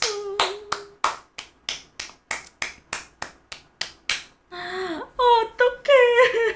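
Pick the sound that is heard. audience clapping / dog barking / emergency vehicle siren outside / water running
audience clapping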